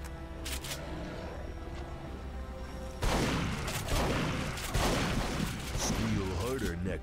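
Shotgun fire from the Duke Nukem Forever video game comes as loud, heavy blasts from about three seconds onward, dense with game noise, and a voice talks briefly around the shots.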